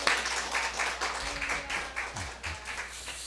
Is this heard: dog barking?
no